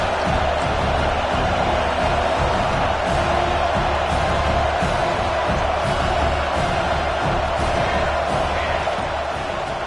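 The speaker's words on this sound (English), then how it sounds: "this crowd is turning it up a notch" Stadium crowd in the Madden 26 football video game roars steadily throughout, a loud, dense wall of cheering with scattered whoops and swells, no voices speaking over it.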